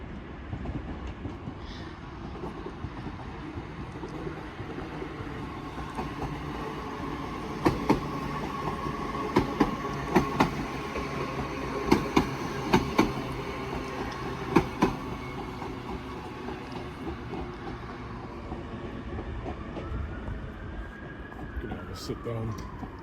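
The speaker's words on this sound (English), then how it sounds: "the first train we see is a 331 terminating from Little Lime Street" A Class 331 train runs through Wigan North Western station as a steady rumble with intermittent clicks and clatter from the wheels and a faint rising whine near the end, heard at moderate distance.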